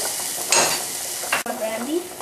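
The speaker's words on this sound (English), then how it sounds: "And now I'll heat my peppercorns" Peppercorns heating in a pan, with a brief sizzle and scraping stir sounds, a sharp clack near the middle, then light frying hiss, close and moderately loud.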